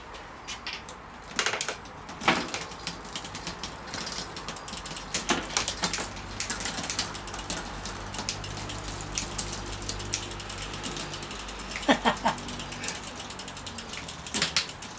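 A Trek bicycle's mangled, bent derailleur and gears click and ratchet after a trailside fix, a steady run of close mechanical ticking with a few sharper bursts of clatter, no voices.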